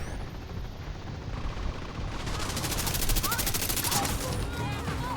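Video-game automatic gunfire emptying a full magazine, a fast continuous burst of loud rapid shots that starts partway in and rattles on to the end over a rumbling battle backdrop.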